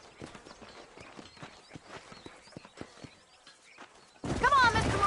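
Horse hooves clip-clop steadily in an irregular walking rhythm through the dusty frontier town of Armadillo in Red Dead Redemption, moderately close, with soft ambient noise and a burst of louder sound near the end.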